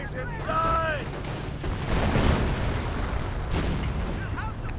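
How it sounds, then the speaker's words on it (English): A howitzer barrage in a World War II real-time strategy game sounds as a dense, rumbling spread of booming blasts that rolls on for several seconds, with a few whistling shell sounds at the edges and a commentator talking over it. "That was a nice initial barrage right there."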